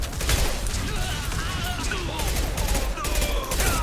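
Gunfire rattles in dense, continuous bursts during a Mass Effect 2 firefight, loud and unbroken, with someone talking over it.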